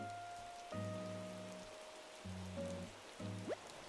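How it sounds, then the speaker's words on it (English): Steady rain patters on surfaces in the Animal Crossing New Horizons video game, a soft continuous hiss under gentle tonal music that drops out and returns in short phrases. "I guess another rainy day."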